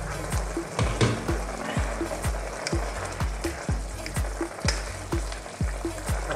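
Pork and pineapple bubble in a pan, with rhythmic low bubbling pops repeating steadily over a continuous close sizzle.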